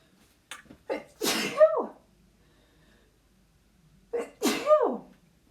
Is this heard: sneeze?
yes